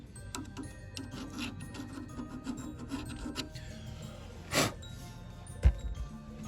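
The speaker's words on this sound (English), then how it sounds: "I'm gonna scrape off a little bit of that paint just to make sure." Screwdriver scraping paint off metal on a VW Bug, steady rasping strokes up close that are fairly quiet, with a few sharper knocks and clatters mixed in.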